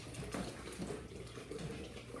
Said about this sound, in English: and pouring water